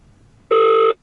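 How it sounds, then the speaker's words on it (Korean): A single short electronic ring tone sounds from the SOS emergency call system inside a Volvo C40 Recharge, loud and clear, starting abruptly and ending after under half a second with a steady tone. "이 부분에 볼보 온콜 서비스 있습니다. SOS 버튼 있고 온콜 서비스 있습니다. 2초 동안 누르면 비상전화를 걸 수가 있는 거죠"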